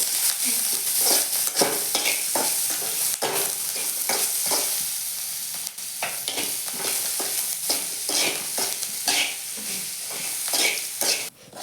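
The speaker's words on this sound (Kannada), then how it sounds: "ಈಗ ಜೀರಿಗೆ ಕರಿಬೇವು ಕೊತ್ತಂಬರಿ ಒಂದು ಸ್ವಲ್ಪ ಬೆಲ್ಲ ಒಂದು ಸ್ವಲ್ಪ ಉಪ್ಪು ಇದಷ್ಟು ಚೆನ್ನಾಗಿ ಹುರಿಬೇಕು" Cumin, curry leaves, coriander, jaggery and salt roast in a pan with a steady dry sizzle, broken by repeated scraping stirs throughout, close up with no voices.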